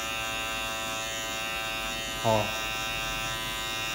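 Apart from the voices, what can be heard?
electric hair clippers cutting hair for a fade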